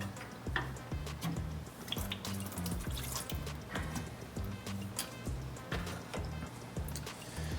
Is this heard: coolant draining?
yes